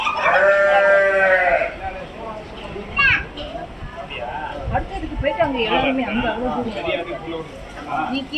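A goat on a goat farm lets out a loud, wavering bleat up close, then children and adults chatter over quiet background noise.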